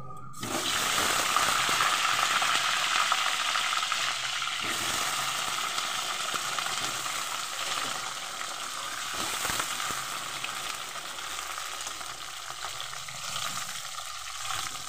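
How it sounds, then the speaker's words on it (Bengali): Potatoes fry in oil in a kadai, producing a loud, steady sizzle that begins abruptly and continues for the whole stretch, with faint stirring and bubbling beneath. "আলুগুলো আমি ভেজে নেব।"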